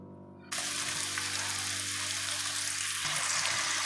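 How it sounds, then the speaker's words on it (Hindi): Water is poured into a pan of simmering besan gravy for khandvi-style curry, setting off a sudden, loud, steady hissing sizzle that carries on unbroken. No one speaks. "इसमें मैंने अब थोड़ा सा पानी ऐड कर दिया है"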